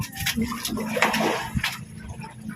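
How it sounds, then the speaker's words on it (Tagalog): Big, strong sea waves slosh and splash close by in uneven surges, a rough watery churning that swells and falls several times. "Lakas ng alon, malalaki"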